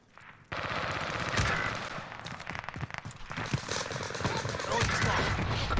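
Machine gun fire in a shooter video game, sustained rapid bursts starting abruptly and continuing loud and near, with scattered heavier impacts and a voice speaking over the shooting.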